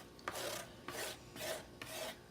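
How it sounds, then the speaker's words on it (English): Repeated rough scraping strokes of a utensil pushing a wet craft mixture toward the side of a container, four distinct rasping passes in steady rhythm, close and moderately loud with no voices. "I'm just going to scrape this kind of towards the side"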